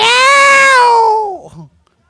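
A person imitates a domestic cat with a single loud, drawn-out meow that falls in pitch at the end, close up, followed by a brief soft vocal sound.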